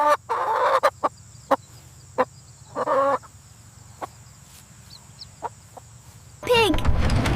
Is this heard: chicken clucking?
yes